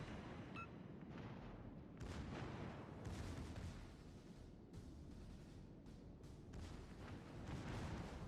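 Warship gunfire in the naval video game World of Warships: Legends, with the Odin firing a salvo: steady, fairly quiet rumbling booms and a dense low roar of battle, several sharper cracks standing out, no talk.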